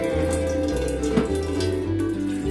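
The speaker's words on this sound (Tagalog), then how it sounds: "Lagay na tayo ng tubig sa ating steamer." Water pours from a tap into a metal cooking steamer, a continuous splashing rush with shifting tone as the vessel fills, close and fairly loud with no talking.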